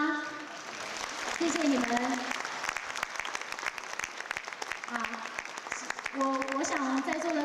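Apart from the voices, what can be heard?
audience applause for Balinese gamelan musicians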